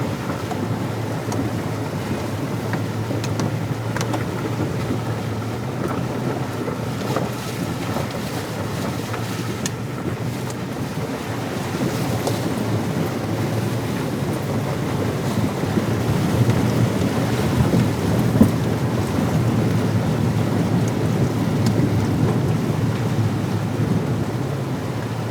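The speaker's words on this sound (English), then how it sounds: "Okay, first major river crossing on this trip." A 4WD vehicle fords a river crossing on the Billy Goat Track in Victoria's High Country, a loud, continuous rush and churn of water with broadband engine and splash noise throughout.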